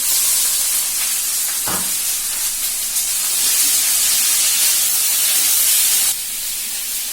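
Taro, onion and chickpeas frying in a hot pan, a loud steady bright sizzle and hiss throughout, with a brief clink near the start and a slight drop in intensity just before the end.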